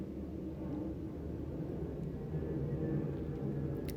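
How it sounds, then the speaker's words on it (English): Airplanes passing overhead, a low, broad rumbling drone that swells slightly toward the end, steady and moderately distant with no talk. "Holy airplanes today."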